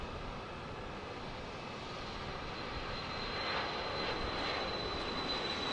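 Pilatus PC-24 business jet at Dallas Love Field, its engines producing a steady broadband roar with a thin high whine, growing slightly louder toward the end with no talking.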